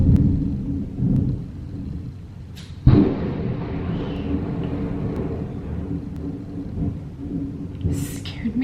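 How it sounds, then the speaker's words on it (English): Thunder rumbling outside during a summer storm, a low sustained roll with a sharper crack partway through, heard indoors and moderately loud, with a faint voice at moments. "she's so scared of thunder"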